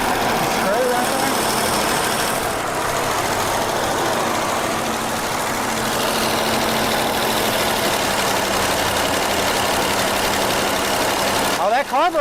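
A 1976 AMC Pacer engine, carbureted with a sticking choke and loose carburetor, idling high after sitting for twenty years; a loud, steady droning idle runs continuously, with faint voices underneath.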